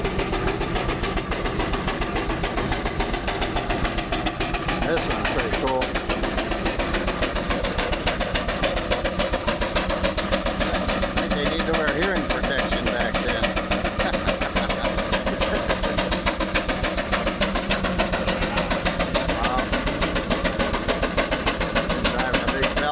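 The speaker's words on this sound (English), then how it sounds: "80 horsepower steam engine." An 80 horsepower steam traction engine at a tractor show idles and runs while driving a big belt, giving a loud, steady mechanical chugging and hiss throughout, with people talking over it.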